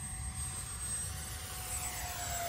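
An E-flite Viper 64mm RC sport jet makes a full-speed pass, its electric ducted fan giving a steady, loud, high-pitched whine that holds without a break.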